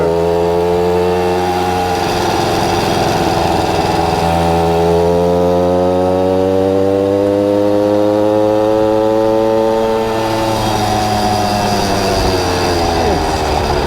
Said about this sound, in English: you gotta love this little two-stroke. I love that two-stroke.